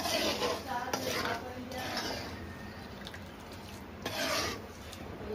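Spices are stirred into homemade poha chivda, a spoon scraping and rubbing steadily against the metal pan, with a few louder clanks, close and continuous.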